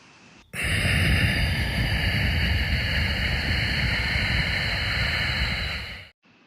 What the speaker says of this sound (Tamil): ஒரு மூச்சு வந்து நீங்கள் விடணும் ஆனால் வாய் வழியாக மூச்சு விடக்கூடாது